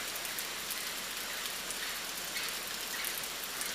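Steady rain pours down in the Amazon forest, a dense continuous hiss of drops on leaves and surfaces, even and unbroken throughout with no voices.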